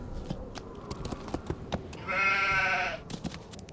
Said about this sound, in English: Oh, hi, sheep.